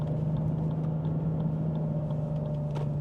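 A Lexus IS 350 sports sedan rounds a city corner at low speed, heard as a steady, low, fairly quiet cabin drone with no other prominent sounds.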